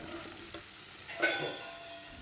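Prawns fry in a pan as the water cooks off, stirred with a utensil: a steady close sizzle with soft scraping strokes, swelling into a louder scrape-and-hiss burst partway through, no voices.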